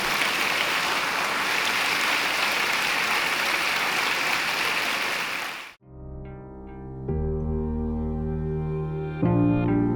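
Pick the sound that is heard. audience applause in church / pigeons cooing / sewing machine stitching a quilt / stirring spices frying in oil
audience applause in church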